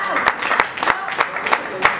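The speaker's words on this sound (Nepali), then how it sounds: "अब के धिमा धिमी ताली बजाइरहनु भएको छ" Slow, deliberate audience clapping at a Nepali comedy show, a handful of spaced claps falling in an even rhythm about every third of a second, moderately loud, with faint murmuring between them.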